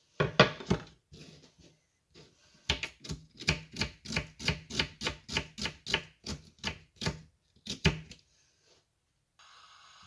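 Knife chopping food on a board for lentil cutlets: a quick burst of cuts, then a steady run of about a dozen evenly spaced, crisp chops, close and clear, ending with a few more strokes.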